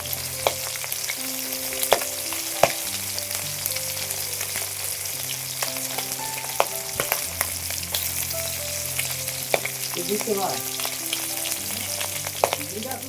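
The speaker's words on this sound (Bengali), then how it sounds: "এই মাছগুলি ভাজতে ভাজতে এতটা পরিমাণে ফুটছিল" Jiol fish fry vigorously in hot oil, a loud, continuous bubbling sizzle with frequent sharp crackles and pops, steady throughout with no voices.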